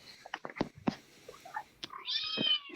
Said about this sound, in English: That cat, man, all night.